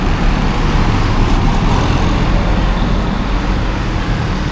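Buses and traffic rumble steadily at the Banjarmasin bus terminal, a loud, continuous broadband roar of engines and road noise with no clear pauses and no talking.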